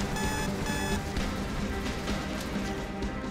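A repeating electronic alarm tone from the video game Space Station 14 sounds steadily throughout, dense and continuous over a noisy game background with clattering effects.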